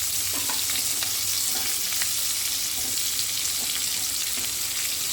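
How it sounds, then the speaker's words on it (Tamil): Onions and green chillies fry in a pan for a coconut milk gravy, a constant close hiss of sizzling oil with faint ticks from stirring and no talking. "வெங்காயம் பச்சை மிளகா போட்டு கொஞ்ச நேரத்தில் நம்ம உப்பு கலந்துடணும் அப்புறம் கொஞ்சம் நல்லா வதங்கும்"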